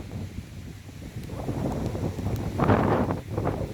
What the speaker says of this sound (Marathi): नुसतं वारं आहे, नुसतं वारं